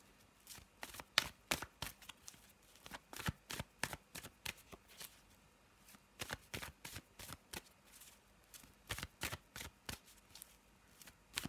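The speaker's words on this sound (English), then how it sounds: "let's have a little shuffle and see what we've got" Tarot cards are shuffled by hand in steady, rapid bursts of crisp riffling and flapping, close and fairly loud, with brief pauses between runs and no talking.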